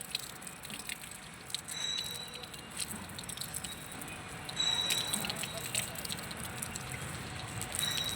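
A thin, steady trickle of running water with soft drips and patter, continuous and fairly faint, no voices.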